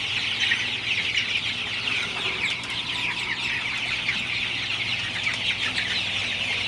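Sonali super hybrid chicks, about five weeks old, cluck and chirp steadily as a flock gathered in front of a fan in a hot poultry house, a continuous busy chorus over a low steady fan hum.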